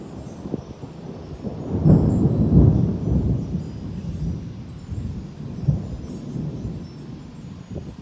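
Deep thunder rolls and rumbles through a strong thunderstorm cell, a low booming swell that peaks early and then trails off into softer rumbling with a faint rain hiss.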